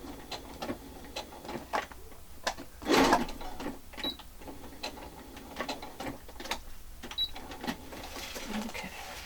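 Sewing machine backstitching through the paper pages of a vintage checkbook-style journal, with short uneven bursts of clattering mechanical ticks and a louder rasp midway, close and fairly quiet.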